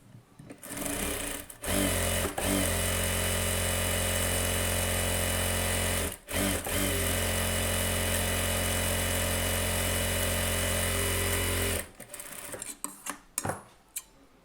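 A sewing machine stitching blouse fabric for a close-neck blouse runs in long steady whirring bursts, loud and close, with brief pauses and clicks as stitching stops and restarts near the end.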